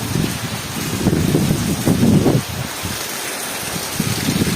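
Heavy rain with rainwater flooding into a house: a loud, dense hiss of downpour, close to the microphone, with low surging rushes of water in uneven bursts.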